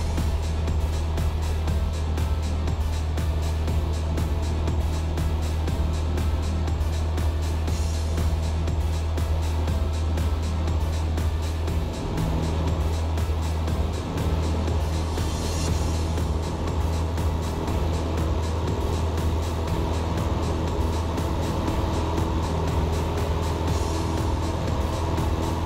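Cessna 172 piston engine roaring steadily at full power on the takeoff roll, a loud, constant low drone with propeller hum that holds unbroken throughout.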